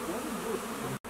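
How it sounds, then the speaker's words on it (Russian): A swarm of honey bees settling into an empty beehive, a dense close buzzing hum of many insects that holds steady before a brief cut. "это походу рой пришел и подселяется в пустой мой улей"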